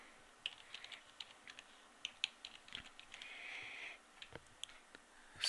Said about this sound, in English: Type in our domain name, password protected